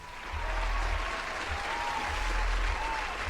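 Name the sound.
round of applause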